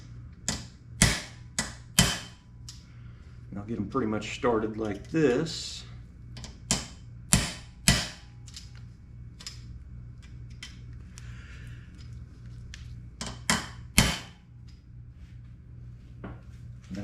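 Small ball peen hammer tapping a roll pin punch against paper-thin rivets during reassembly of a Chevy hardtop, sharp metallic taps coming singly and in short bursts, with someone talking partway through.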